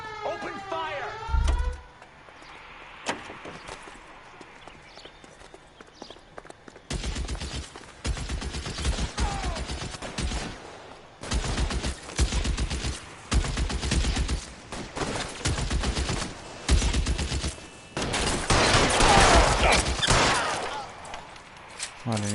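A shootout in the video game L.A. Noire, with repeated volleys of loud gunfire breaking out in bursts over several seconds, a siren wailing early on and voices speaking between the shots.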